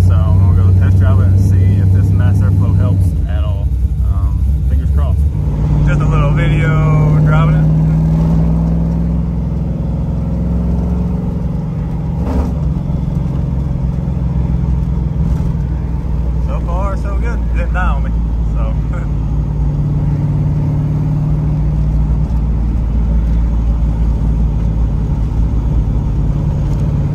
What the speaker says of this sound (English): So I'm gonna go test drive it and see if this mass airflow helps at all.